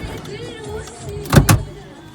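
A car door shutting as someone gets in before a driving exam in Istanbul: a soft rustle of movement, then two quick heavy thumps close by near the end.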